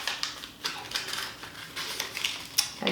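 Sheet of paper being folded by hand, a steady papery crinkling and rustling with soft creasing swipes and a sharper crackle near the end, close and fairly quiet.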